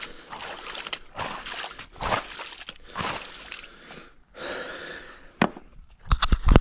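Water sloshes and splashes as it is cleared from a Jurassic fossil dig, a series of irregular bursts of splashing and scooping separated by short pauses, close up, ending with a few sharp knocks.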